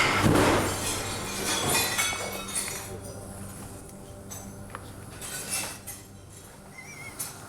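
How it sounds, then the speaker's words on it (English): A frozen chicken fired from a cannon blasts through stacked glass panes, a loud crash and shatter at the start followed by tinkling, clinking shards settling over several seconds. "The frozen chicken hasn't just cracked a couple of panes. It's blasted a hole right through the glass."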